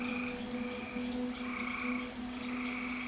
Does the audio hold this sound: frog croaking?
yes